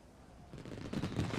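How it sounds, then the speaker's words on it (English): Fireworks burst at a Fourth of July night display, a quick run of crackling, booming pops that grows louder and denser over little more than a second. "That night, Thomas and James watched the fireworks together."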